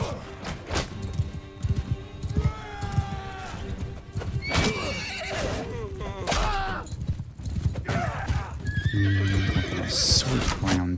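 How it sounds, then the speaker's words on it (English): Horses neigh and whinny amid hoofbeat clip-clop in Mount & Blade II: Bannerlord, medieval battle game audio, with several rising whinnies over a busy, continuous mix and some talk. "I think I might have just killed one of our horses."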